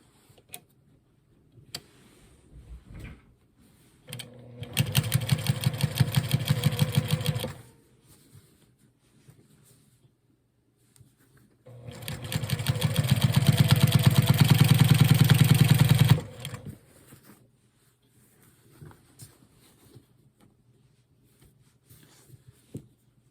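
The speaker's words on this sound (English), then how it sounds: "I'm just going to go right ahead and sew this" A sewing machine stitches quilt top pieces in two sustained bursts of fast, rhythmic needle clatter and motor hum, with quiet fabric handling and small clicks in between.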